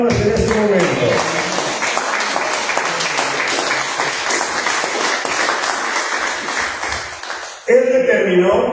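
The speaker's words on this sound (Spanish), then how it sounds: "Merece tus palmas en este momento." A congregation claps at a church service, with dense steady applause filling the space after a spoken line and voices overlapping at both the start and the end.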